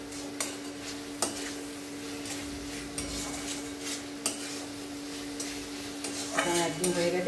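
Ol chorchori, an elephant-foot yam dish, being stirred in a pan after a drizzle of raw mustard oil, with repeated scraping and metallic spoon clinks over a faint sizzle, close and moderately quiet.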